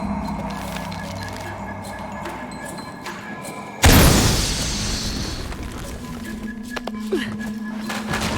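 A sudden loud explosion in Shadow of the Tomb Raider, a heavy boom with a crashing burst that rumbles and fades over several seconds against steady game ambience.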